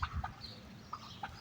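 Hens and a rooster in a small backyard flock cluck softly in short, scattered calls, close but quiet, with no voices.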